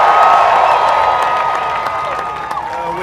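Iowa rally crowd cheering and applauding in a loud, sustained roar of voices and clapping that fades slightly toward the end.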